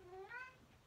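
A house cat gives a single short, rising meow, faint and close, in an otherwise quiet room.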